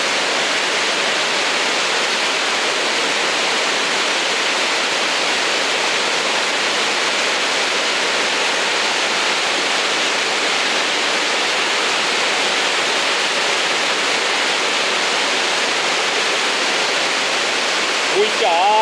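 Rushing river water beneath the Friendship Bridge in Joaquim Gomes, Alagoas, a loud, dense, unbroken roar filling the whole stretch, with no talk over it.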